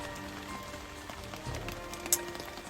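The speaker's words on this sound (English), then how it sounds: "stuck out here in a rainstorm" Heavy rain patters steadily on a tent pitched in a swamp, a dense hiss of drops with scattered louder taps, close and continuous with no talking.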